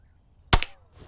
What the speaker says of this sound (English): this little 5-pound rifle is kind of hard to hold steady